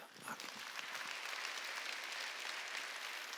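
A church congregation breaks into sustained applause during a sermon, a dense wash of clapping heard faintly and from a distance, steady from start to finish.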